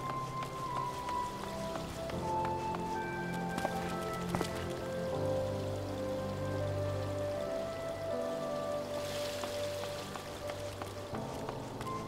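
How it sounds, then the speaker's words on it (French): Steady rainfall in Gridania, a forest town in Final Fantasy XIV, forms a continuous soft wash of falling rain under layered ambient game music and chimes, with no talk. "Il pleuvait à Gridania."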